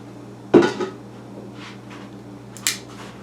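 A spoon clinks against a metal pot while brown sugar is stirred in, one sharp clatter followed by lighter scraping and a second bright clink, close and quiet with no talking.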